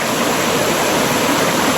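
Steady rushing of water in a rocky river where people are bathing, a continuous, close, loud broadband flow with no pauses and no voices.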